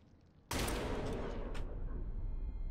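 Gunfire used to shoot a lock open in the horror game Amnesia: The Bunker, a sudden loud blast after near-quiet that rings out and decays, with a second fainter shot about a second later.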